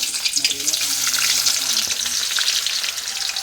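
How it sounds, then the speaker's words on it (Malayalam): Onions frying in hot Dalda in a pan for biryani make a loud, continuous crackling sizzle, with stirring scrapes near the start, close and with no voices. "ചട്ടി ചൂടായിട്ടുണ്ട് അതിനകത്തോട്ട് നമുക്ക് ഉള്ളി ഇട്ട് കൊടുക്കാം"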